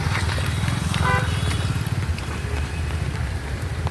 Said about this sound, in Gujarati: મેળાની અંદર સ્કૂટર 4 વ્હીલ સાયકલ લઈને લોકો આટા મારે છે